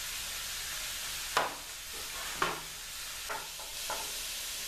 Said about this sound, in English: We'll be right back as soon as I get the hamburger browned.